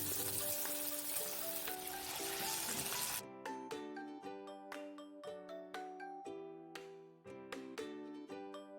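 Chicken pieces deep fry in hot oil over a medium flame, giving a dense, close sizzle under melodic background music for about three seconds before the frying drops out and only the music continues.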